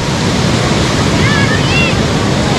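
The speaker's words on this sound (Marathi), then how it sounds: "हा मुरुडचा बीच आहे मित्रांनो" Sea waves wash in at Murud beach on the Konkan coast at midday, a loud, steady roar of surf mixed with wind buffeting the microphone and faint distant voices.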